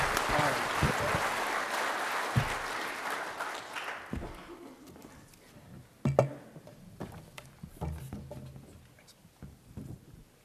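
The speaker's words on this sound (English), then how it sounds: "Please give them a round of applause." A crowd at a ranching presentation applauds for about four seconds with loud, dense clapping that breaks off, followed by scattered claps, clinks and room noise.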